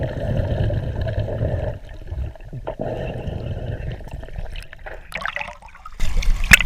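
A full-face snorkel mask is cleared of water, making a steady gurgling trickle that drops away briefly, then sputters and ends in a louder, harsh splashing burst.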